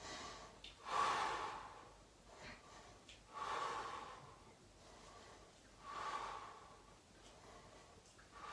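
Deep breaths out and in during a home circuit-training exercise: three slow, close exhalations spaced a couple of seconds apart, with softer inhales between them and no talk.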